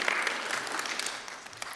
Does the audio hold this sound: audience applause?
yes